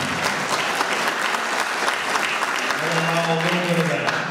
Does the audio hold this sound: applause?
yes